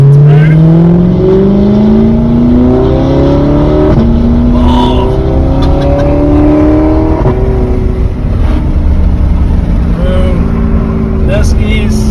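A straight-piped Audi R8 engine revs hard while driving, loud and close, with rising and falling pitch sweeps through repeated accelerations over steady road and wind noise, with no talking.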